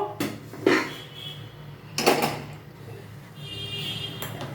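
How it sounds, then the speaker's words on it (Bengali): A metal kadai set down on a stove burner before frying fish, giving a few sharp clanks and a scrape against the grate, fairly close, with faint kitchen background between the knocks. "এবার আমি মাছ ভাজার জন্য ওভেনটাকে অন করে ওর মধ্যে একটা কড়াই বসিয়ে দেবো"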